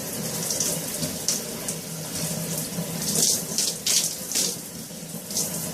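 Water runs steadily from a tap while conditioner is rinsed out of hair, a constant close splashing with irregular louder surges.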